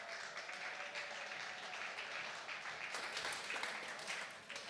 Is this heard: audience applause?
yes